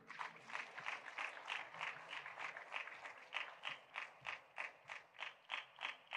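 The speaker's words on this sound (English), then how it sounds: "Another warm round of applause." Audience applause following a keynote speech at a governance conference, heard as a quiet, fairly sparse patter of hand claps with a rhythmic, pulsing quality that swells and eases over several seconds.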